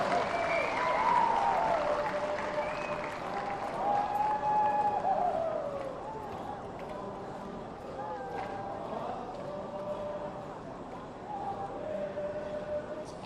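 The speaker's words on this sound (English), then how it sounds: "let's give the Yimchunger cultural troupe a big round of applause for their wonderful performance" An audience applauds a Yimchunger cultural troupe after its performance at a Nagaland event, with continuous crowd clapping beneath a voice speaking over a PA and a few brief tonal sounds.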